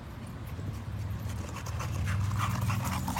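A dog pants rapidly and continuously close by, with faint whimpers mixed in, in the cryotherapy area of a gym during a rest day.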